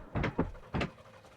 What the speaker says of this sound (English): Ooh, I like the door.